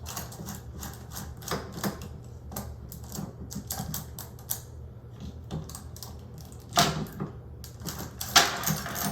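A bar is unscrewed off a bike, producing a string of quick, irregular clicks and light ratcheting taps, close by and fairly quiet, with a couple of sharper knocks near the end.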